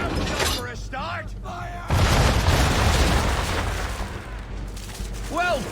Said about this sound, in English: Bring her round broadside, and when all guns are on target, call fire.